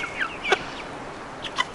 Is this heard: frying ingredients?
no